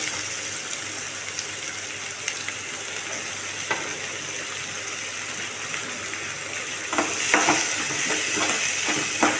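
Chopped onions sizzle steadily in a hot pan, a constant crackling hiss that grows louder with stirring near the end; no voices.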